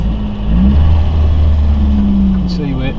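A 1977 left-hand-drive Ford Fiesta Mk1 engine idles close by on a driveway, a steady low hum that rises slightly as it is revved, with a voice speaking over it briefly near the end.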